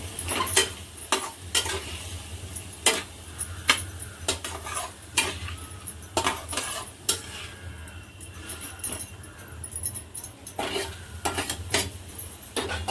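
Bitter gourd stirred with salt in a pan: repeated scraping and clinking utensil strokes in an irregular rhythm over a constant close sizzle, with no voices.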